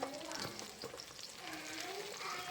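Onions sizzle in a pot and are stirred while Kerala-style biryani is cooked with ration rice. The frying crackles steadily and close by, with a few brief scraping stirs and no clear talking.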